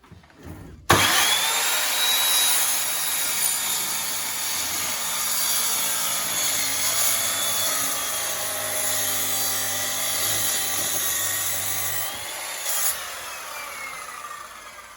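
Saw cutting through a thick wooden plank at a 44 angle: a sustained, close, high whining cut that starts abruptly after a brief quiet moment and runs steadily, with no talking.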